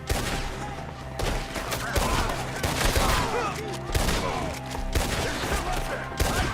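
Rapid volleys of gunfire from a Red Dead Redemption 2 shootout crack out repeatedly and loudly in dense bursts, with shouted voices mixed underneath the shots.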